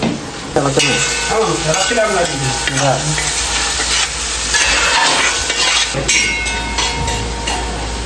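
Onions frying in hot oil in a pan for a spicy chicken roast, a loud, steady sizzle with scraping stirs of a spatula and a brief faint voice in the background.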